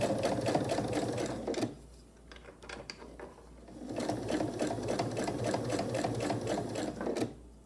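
A sewing machine stitches a vinyl pouch with a wristlet in two fast, even runs of rapid mechanical clatter, separated by a brief pause of quieter ticking.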